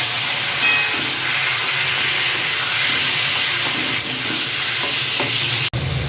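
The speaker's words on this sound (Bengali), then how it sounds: "কালো জিরাটা একটু নাড়াচাড়া করেই আমি দিয়ে দিচ্ছি শাকটা যে সেদ্ধ করে রেখেছিলাম সেটা।" Boiled taro greens dropped into hot oil with nigella seeds, a loud, dense steady sizzle and hiss filling the scene, close by, with faint stirring underneath and a brief cut near the end.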